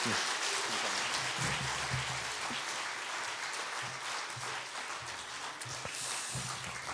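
A church congregation applauds steadily throughout, a dense wash of clapping filling the room without pause.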